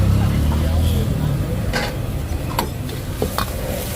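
Busy stir-frying of noodles in a wok at a crowded Thai market stall with flaming burners: scraping and clattering metal with a loud low rumble of burner and kitchen noise, people talking nearby.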